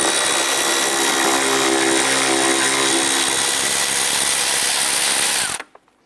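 A powered ratchet spins to loosen a 10mm bolt near the exhaust manifold of a 1999–2004 Jeep Grand Cherokee, whirring steadily and loud for about five seconds before cutting off abruptly.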